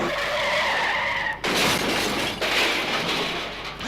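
Comedy sound effect of a car speeding at around 80 to 90 miles an hour and skidding: a loud, continuous roar and tyre screech with abrupt cuts, filling the whole stretch without talk.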